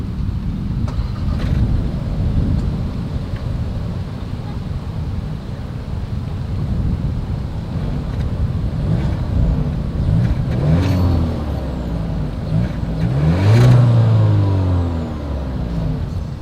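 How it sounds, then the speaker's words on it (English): Exhaust of a 2023 Volkswagen Taos compact SUV, a steady low engine rumble that swells into a rev near the end, loud and close with no talking. "As always, here is that exhaust clip."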